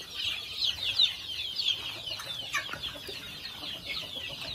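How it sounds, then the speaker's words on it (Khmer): Chickens at a small farm cluck and chatter in a steady, overlapping chorus, moderately close, with no talk over them. "នេះគឺកន្លែងចិញ្ចឹមមន់របស់ខ្ញុំ"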